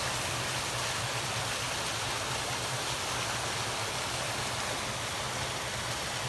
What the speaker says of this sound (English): and this is a spillway.